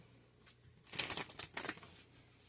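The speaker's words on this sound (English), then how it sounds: "I'm just in here shuffling." Tarot cards are shuffled close by in a couple of quick riffling bursts after a quiet start, with no talking.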